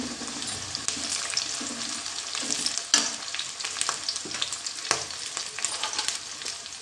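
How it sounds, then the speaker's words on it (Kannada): Onion and green chilli sizzle and fry in a pan for egg masala, a steady close crackle with occasional stirring scrapes and a sharper clink near the middle, no voices. "ಅದಕ್ಕೆ ಮೂರು ಕಟ್ಟು ಮಾಡಿಟ್ಟ ಈರುಳ್ಳಿ ಕಾಯಿ ಮೆಣಸು ಹಾಕ್ತಿದ್ದೇನೆ"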